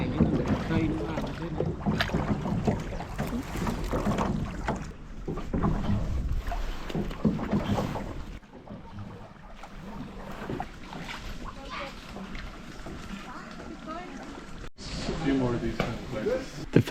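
A tour boat cruising across a lake near a Buddhist temple, with a steady engine and water rumble, gusts of wind buffeting the microphone, and voices talking over it.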